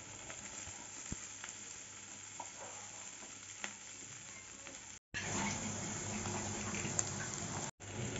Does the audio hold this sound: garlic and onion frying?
yes